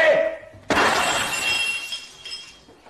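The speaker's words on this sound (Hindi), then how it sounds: "पाँच रुपए वाला फूलदान टूट जाता है" A voice is followed by a sudden loud crash of glass shattering, fragments ringing and tinkling as they settle.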